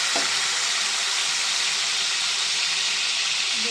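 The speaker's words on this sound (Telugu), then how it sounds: "దీంట్లో ఆయిల్ వేడైంది కదండి దీంట్లో మనం పేస్ట్ చేసుకున్న ఉల్లిపాయ పేస్ట్" Onion paste hits hot oil and sizzles loudly and steadily, a close, continuous frying hiss with no talking.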